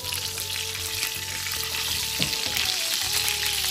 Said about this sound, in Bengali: খুব সুন্দর করে আস্তে আস্তে কোপ্তাটাকে ভেজে নেব।